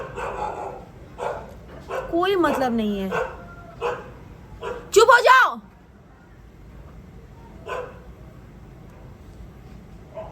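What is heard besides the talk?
dogs barking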